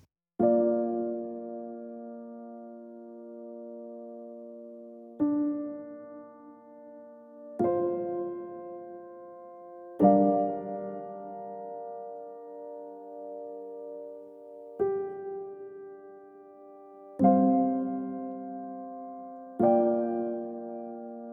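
Sustained string chords swell and change every few seconds, each new chord entering softly with a gentle attack and ringing on smoothly; no speech.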